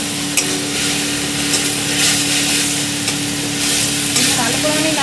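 Ginger-garlic paste being stirred into frying onion and green chilli in a pan, a steady sizzle with scraping strokes of the spoon running throughout at close range.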